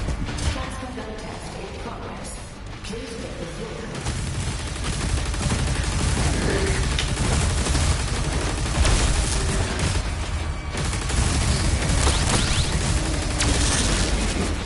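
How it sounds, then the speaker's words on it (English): The accelerator plasma weapon in DOOM: The Dark Ages fires in rapid, relentless bursts, a loud, dense stream of energy shots and booming impacts that grows heavier after a few seconds and keeps pounding without a break. "The accelerator shoots out plasma energy at a very high rate of fire."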